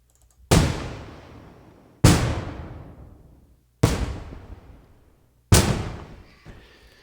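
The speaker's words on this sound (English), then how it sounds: "Again, gunshot-like sounds. Room Studio A through D." Four loud gunshot-like bangs processed through the Airwindows Room Studio reverb effect, each a sharp hit followed by a long decaying room tail, spaced about one and a half seconds apart with nothing else heard.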